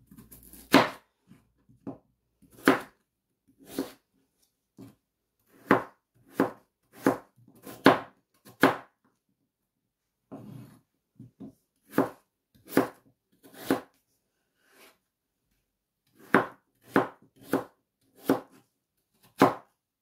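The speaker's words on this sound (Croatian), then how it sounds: "Sada ću krompir da isječem sitno." Potatoes being finely chopped with a knife on a cutting board, a long series of crisp, evenly spaced thuds in several bursts with brief pauses, close and clear with no talk.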